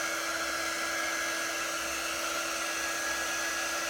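A heat tool blows hot air to dry ink on a shirt, giving a steady, even whooshing hum with a faint high whine that holds constant throughout at moderate loudness, with no voices.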